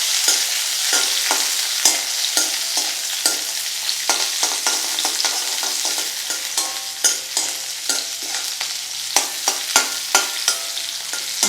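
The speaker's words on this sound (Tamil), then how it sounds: "அதில் ஒரு 2 நிமிஷம் வெங்காயம் வதங்கட்டும்." Chopped onions sautéing in a pan for chilli chapati, a steady bright sizzle broken by frequent sharp scrapes and taps of a spoon stirring, close and without any talk.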